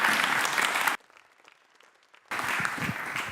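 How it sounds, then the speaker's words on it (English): Short bursts of audience applause for a speaker at a data visualization talk event, clapping for about a second, a brief near-silent gap, then clapping again. "Give him a warm applause."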